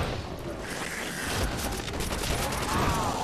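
Gunfire from a custom zombies map video game rattles in quick bursts, faint and somewhat distant, heard without speech.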